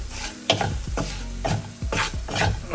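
Asafoetida powder being stirred into mulberry pickle in a pan, with rhythmic scraping strokes of a spoon about every half second over a soft sizzle, close and clear with no talking.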